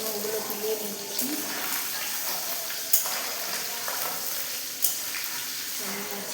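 Small salted fish (maya fish) frying in a pan, a steady close crackling sizzle with a couple of sharp clinks of a utensil against the pan, no voices.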